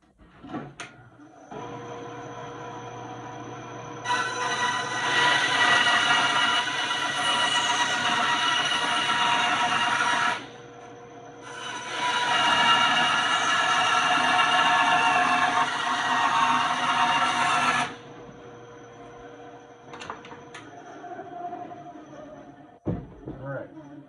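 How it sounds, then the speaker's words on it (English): A wood planer feeds a board through in two long passes, each a loud steady whirring cut that starts and stops abruptly, with motor hum between and a sharp clunk at the end. "let's finish this up so we can get her through the planer"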